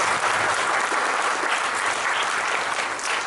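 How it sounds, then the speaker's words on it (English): A crowd at a birthday celebration in Auckland, New Zealand, applauds long-married couples with dense, sustained clapping that holds loud and steady throughout. "Please give them a round of applause."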